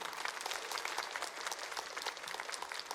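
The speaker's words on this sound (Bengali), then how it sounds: "একটু হাততালি তো হতেই পারে।" An audience at a dance-theatre stage production claps in steady, dense applause, moderately distant and fairly quiet, with no clear voices over it.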